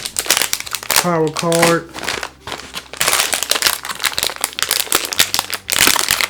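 Crinkling plastic and cardboard from unwrapping the power brick of a 2020 Razer Blade 15 base model laptop, loud and close bursts of rustling across the clip, with someone speaking briefly over it.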